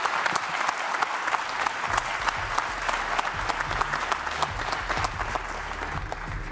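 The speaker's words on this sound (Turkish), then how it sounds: "Ben kocaman bir alkış istiyorum hepsi bir aradayken" Steady, full applause from the audience at a sports award ceremony honouring a wheelchair basketball team, thick and continuous, with low sustained tones underneath suggesting music playing in the hall.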